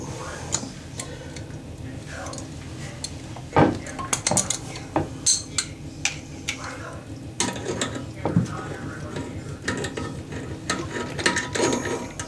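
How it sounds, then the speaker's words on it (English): A wrench works the packing nut loose on a rusty toilet angle stop valve, giving repeated close metallic clicks, scrapes and ratcheting clanks in an uneven rhythm, with faint speech in places. "For me to easily take the packing nut off and the stem out of the angle stop."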